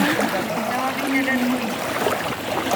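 River water flows at Wawa Dam in a steady, close rushing and trickling wash, with speech heard faintly over it.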